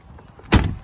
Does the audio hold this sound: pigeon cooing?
no